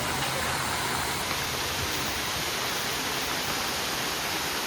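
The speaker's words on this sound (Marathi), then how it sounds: "हे बघा धबधबा." Waterfall at Matheran, a hill station in the monsoon, rushing as a constant loud broadband roar of falling water, steady and unbroken with no voices.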